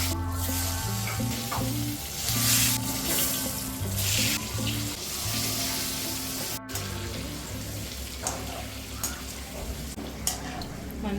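Eggs fry in oil for egg biryani with a steady, loud sizzle and spatter. Sustained musical tones run beneath it, and one sudden brief dropout occurs partway through.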